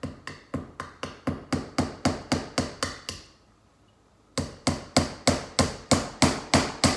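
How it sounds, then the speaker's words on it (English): Sharp, evenly spaced hammer strikes drive nails into wood for string art, a quick run of blows, a brief pause, then another steady series, loud and close. "I'm not holding it while you hammer."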